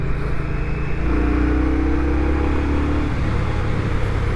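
An Indian Scout Bobber motorcycle engine and exhaust run as a loud, steady, deep drone with rising and falling tones, heard close up from the rider's position without talk.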